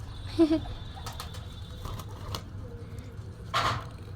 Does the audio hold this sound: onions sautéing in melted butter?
no